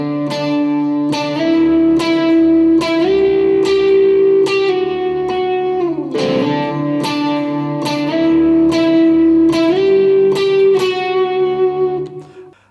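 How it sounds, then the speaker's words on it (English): An electric guitar in standard tuning plays the intro riff of a song with a processed, chorus-like tone, notes ringing steadily before fading out at the end. "I'm just going to play it on a normal sound, just on the guitar."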